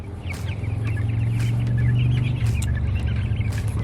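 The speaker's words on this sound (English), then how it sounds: "Here are the chickens on the last day of March." Young chickens cluck and chirp close by, with a steady low hum running underneath the repeated short calls and no voices.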